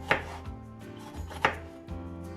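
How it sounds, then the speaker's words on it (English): Knife slicing through washed peppers and peeled onion on a cutting board, three distinct chopping strokes spaced about a second apart, close and fairly quiet with no voice. "peel off the onion, and now we're gonna cut them into slices"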